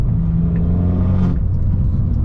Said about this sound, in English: if you can hear the exhaust